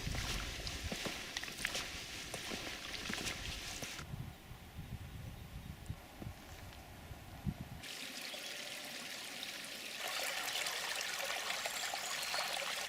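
A stream flows along the Camino de la Costa pilgrimage route near Zarauz and Deva, its faint, continuous trickle and burble heard nearby with no voices.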